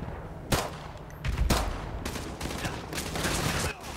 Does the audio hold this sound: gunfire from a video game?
yes